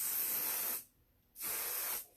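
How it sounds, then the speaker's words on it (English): A spray bottle mists a styled hairdo in two long, close hissing bursts separated by a brief silence, sharp and airy, with no one speaking. "So now we'll just spray it again and let it rest."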